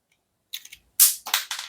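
A bootleg Sam Raimi Green Goblin figure's glider fires its plastic toy missile, a few sharp close clicks and snaps in quick succession with no voice.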